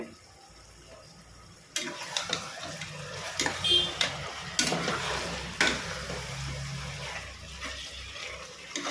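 Chicken pieces sautéing with salt in a pot for Sankarankovil seeraga samba chicken biryani: quiet hiss that jumps into louder sizzling with repeated scraping and clanking stirs, close up.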